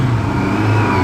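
A 1998 Yamaha Fazer 600 motorcycle with a cut-down, debaffled exhaust revs loudly up close, a brief, continuous raspy engine roar with no talking.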